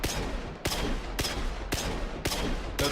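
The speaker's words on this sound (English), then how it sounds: "if I were to reload real quick and fire as fast as this gun can" A video game gun fired as fast as it will go: about five sharp, booming shots in an even rhythm roughly half a second apart, loud and close, with no voices over them.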